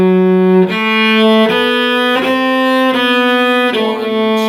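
A cello plays the opening phrase of the beginner tune Old Joe with long, slow bow strokes: about six sustained, connected notes stepping through a simple melody, loud and close, solo.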